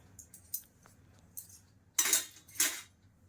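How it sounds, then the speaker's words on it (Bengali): Metal kebab skewers clinking and scraping while being greased with oil for chicken tikka kebabs, a few light taps early, then two louder, longer rattling bursts near the end, close and alone. "স্টিকগুলোতে আমি একটু অয়েল লাগিয়ে দিচ্ছি, গ্রিস করে দিচ্ছি।"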